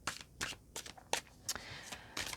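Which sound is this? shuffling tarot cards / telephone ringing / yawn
shuffling tarot cards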